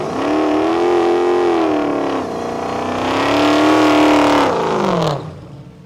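Drag racing car at a track, engine roaring loudly up through the gears with rising, shifting pitch sweeps, then abruptly going quiet near the end as the throttle is cut.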